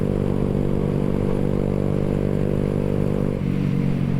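A Honda Grom motorcycle engine idles steadily and close by in a continuous low drone, with a brief dip in pitch near the end and no voices.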